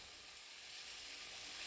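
Onions sizzle steadily in a hot pan, a close, continuous frying hiss with no voice over it.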